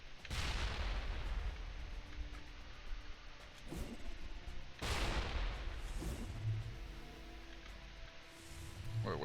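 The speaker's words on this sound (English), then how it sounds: "What a waste of grenades." Grenade blasts in Mass Effect Legendary Edition: two big booming detonations roughly five seconds apart, each with a sharp loud onset and a long rumbling tail, plus smaller thuds and crackles between them.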